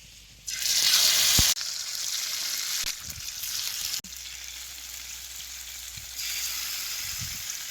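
Fish sizzles loudly in hot oil, the hiss swelling and easing in bursts as pieces are added and moved, with a few light clinks.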